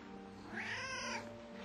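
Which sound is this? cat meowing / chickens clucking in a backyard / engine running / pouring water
cat meowing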